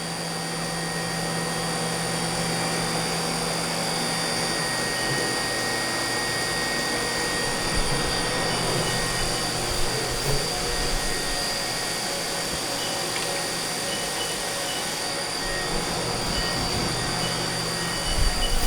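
A 2009 Haas VF-2D CNC vertical machining center with automatic tool changer runs its spindle up toward 10,000 RPM, a steady loud mechanical whine and hum with sustained tones and a few light knocks late on.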